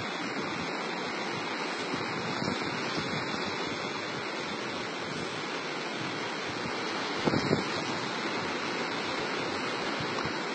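Ocean waves at Pantai Menganti beach in Kebumen, Central Java, making a steady broad roar of surf with wind, continuous and moderately distant, with one slightly louder surge near the end.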